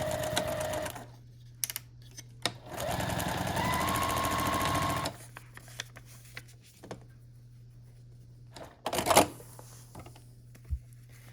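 Sewing machine stitching tiny two-inch foundation paper pieced quilt blocks: a steady close whir in several bursts, one long run in the middle, with short clicks and handling noises between runs.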